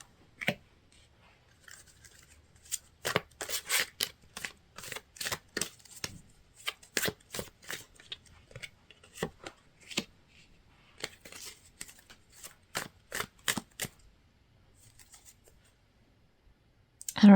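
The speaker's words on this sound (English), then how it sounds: "So as I'm shuffling out these cards, which are coming nice and quick" Tarot cards being shuffled quickly by hand, a run of soft, crisp riffling slaps and flicks in irregular bursts, close but fairly quiet with short pauses between.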